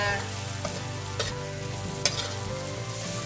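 Onions sautéing in a pan for a mixed seafood dish, with a steady close sizzle and a few sharp clinks or scrapes through the short clip.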